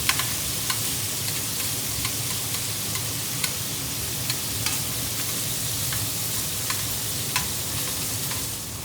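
Garlic shrimp sizzle steadily in a hot pan, a dense continuous fry broken by sharp ticks and scrapes as the pieces are turned, close and fairly loud with no talking.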